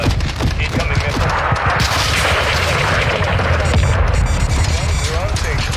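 Missile strike and battlefield combat in the Call of Duty MW2 campaign, loud rolling booms and rapid gunfire bursts layered over a constant rumble, with radio voices talking underneath.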